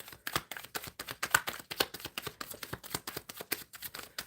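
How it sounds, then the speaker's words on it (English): Tarot cards are shuffled in quick, rhythmic riffles and snaps close to the microphone, with no talking. "Shuffling for Nicholas."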